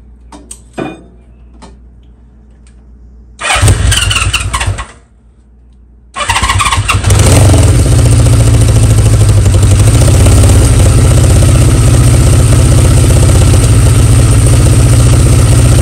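A Honda CB550 motorcycle engine cranks briefly, cuts out, then fires up on a second attempt and settles into a loud, steady idle that runs on close by with no one talking.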